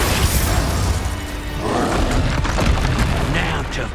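Glacius ice spell being cast in the video game Hogwarts Legacy, a dense icy burst and crackle rising out of continuous loud battle noise with a brief sharp onset partway through.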